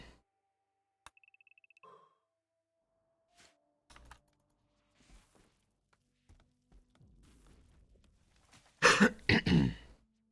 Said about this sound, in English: Apologize for coughing.